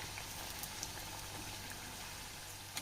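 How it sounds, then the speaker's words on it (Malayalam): Snacks deep-frying in hot oil for an iftar recipe, turned until golden, give a steady, soft crackling sizzle with faint scattered pops, continuous and fairly quiet throughout with no talk. "ഒരു ഗോൾഡൻ കളറാവണ വരെ നമുക്ക് തിരിച്ചു മറിച്ചൊക്കെ ഇട്ട് ഫ്രൈ ചെയ്തെടുക്കാം"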